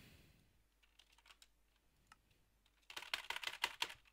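Fingers tap a computer keyboard nearby, with sparse scattered key clicks at first, then a dense, louder flurry of rapid typing toward the end.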